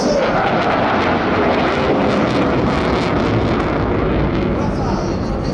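A Dassault Rafale French multirole delta-wing canard fighter jet roars loudly and continuously overhead during a flying display at the 2022 Jesolo Air Show, its steady engine thunder filling the air without letup.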